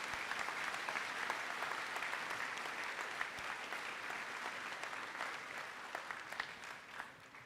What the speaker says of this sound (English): can we have one big round of applause for all of those students